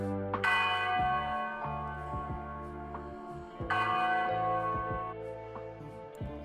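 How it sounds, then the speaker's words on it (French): Church bells ring from the tower of the twelfth-century Saint-Quiriace collegiate church in Provins, several tolls overlapping with a long resonant hum. Two strong strikes stand out at the start and midway, with no voices. "Le sommet de la tour abrite les cloches de la collégiale Saint-Kyrias. Elle fonctionne encore à ce jour."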